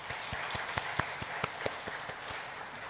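Applause for a church worship team during a service: a crowd of hands clapping steadily for about three seconds, fairly soft and even, with a few sharper claps standing out.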